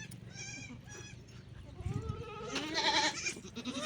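Newborn young goat kid bleating close by, with several high wavering cries over a low background rumble and a louder, longer bleat near the end.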